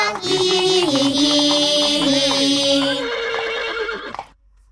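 A horse's neigh rings out as a long, whinnying call inside a children's farm-animal song, loud and set against bright, bouncy music that stops abruptly near the end.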